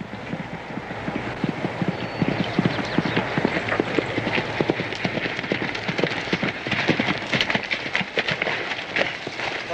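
Horse hooves clip-clopping at a fast gallop on a dirt road in the 1965 TV Western Bonanza, a steady rapid rhythm of hoofbeats that stays loud and close for the whole stretch.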